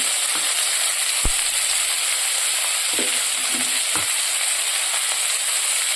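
Chili with salt frying in a pan, a constant loud sizzling hiss with occasional clinks and scrapes as the pieces are stirred.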